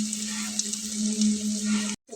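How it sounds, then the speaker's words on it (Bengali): Aloo puffs, three at a time, frying in hot oil, a continuous bubbling sizzle with a steady hum underneath that cuts off abruptly near the end. "3টে ভেজে নিই।"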